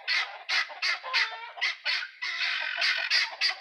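Loud, close bird calls in rapid repeated bursts, a noisy chorus of guinea fowl, chickens and geese squawking and honking over each other without pause.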